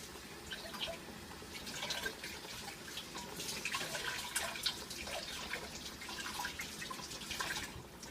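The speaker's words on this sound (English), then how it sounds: "You guys can watch the boiling for me." Continuous bubbling and gurgling of water boiling in a pot, small pops and drips rising and falling at a moderate, close level.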